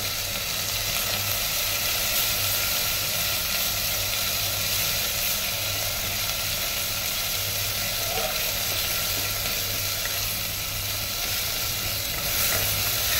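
Soybean curry sizzles loudly and continuously in a hot pan as dry chili powder soaked in water is added and sautéed, a steady hiss with faint stirring throughout.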